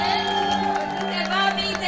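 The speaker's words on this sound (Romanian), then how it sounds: "Aplauze!" Wedding guests cheer and applaud during the calling out of gifts for the bride and groom, a busy crowd roar sustained over loud music.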